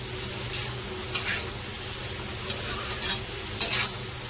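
Masala for matar paneer is stirred in a hot pan and gently warmed. A steady close sizzle runs throughout, with several scraping stirs breaking through it at irregular intervals and no voices.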